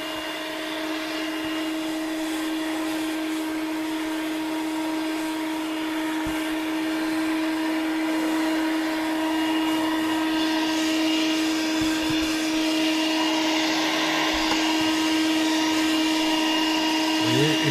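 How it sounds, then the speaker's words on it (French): A Sumbay multifunction vacuum cleaner with a brush attachment runs continuously, a steady loud whine with a strong motor hum and occasional scraping as it cleans a car's rear parcel shelf. "une fois que l'aspirateur est en route"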